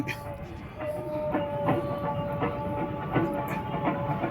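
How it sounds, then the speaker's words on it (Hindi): A special passenger train chartered for a wedding trip to Udaipur runs along the rails with a steady rumble and faint rhythmic clicks, while voices talk over it. "ये देखो हम उस ट्रेन में आए थे सबसे पहले।"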